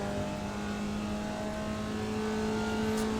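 Formula Vee race car engine in the iRacing sim at Oulton Park, a steady loud buzzing drone held in third gear, constant and close throughout with no talk.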